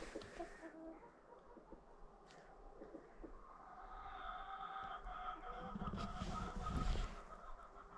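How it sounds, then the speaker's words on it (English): Hens in winter in Russia clucking and murmuring softly at a distance, with a rougher, louder burst of cackling and movement near the end. "Chickens, they don't like winter either."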